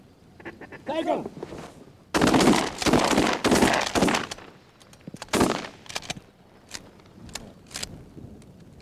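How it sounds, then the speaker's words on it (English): Shotgun blasts during a duck hunt in Canada, a loud burst of several rapid reports followed by scattered shots at varying distance, with people talking in between. "Nice duck shooting."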